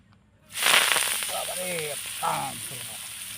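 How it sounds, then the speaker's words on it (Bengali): Fenugreek greens hit a hot pan and burst into a loud, close sizzle that starts abruptly and keeps crackling and spitting, with brief scraping stirs partway through; no voices. "শাকটা ভেজে নিই"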